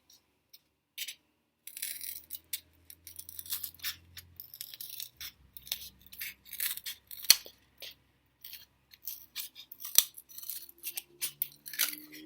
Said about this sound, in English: Then we're going to cut out these.